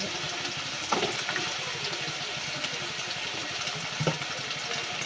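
Potatoes fry in fish oil with a continuous bright hiss of sizzling, punctuated by a couple of sharp clatters and pops, close and fairly loud throughout.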